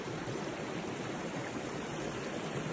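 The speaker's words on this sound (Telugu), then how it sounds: "వాటర్ ఫాల్స్ ఇలా వచ్చి ఇట్లా కిందికి పోతాయి." A waterfall on the Harishchandragad trek in the Sahyadri hills gives a continuous dense rushing roar of falling water, steady and unbroken throughout.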